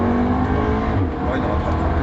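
A Cupra Ateca's engine pulls away from a stop with a strong, steady roar heard from inside the cabin, and voices talk over it.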